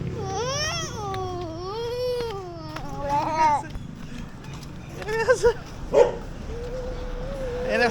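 A dog barks several times in short bursts near the middle of the clip, following a stretch of high, wavering crying or whining, with people talking nearby.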